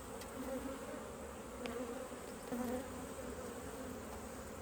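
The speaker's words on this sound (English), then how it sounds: "I see a lot of young bees." Honey bees buzz from an open hive full of brood during an inspection, a soft, steady swarm hum with a few passing individual drones rising briefly, and no speech.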